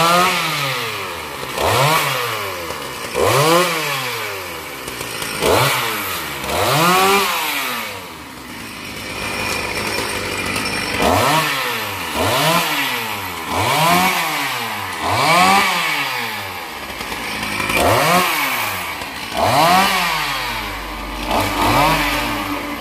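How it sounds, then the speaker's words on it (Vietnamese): A chainsaw revs repeatedly in rhythmic bursts, rising and falling in pitch as it bites into an ornamental areca palm trunk, loud and close, with no talking. "Bà của Hoa sẽ chia ra làm hai phần để cưa."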